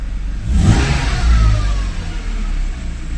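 Inline-six M52 engine in a 1990s BMW E36 323i Touring, cold and freshly fitted with M54B30 camshafts, revs up loudly from idle and holds a steady high rev, close by with no talking.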